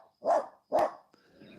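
A dog gives two loud, close barks about half a second apart, followed by quieter rustling.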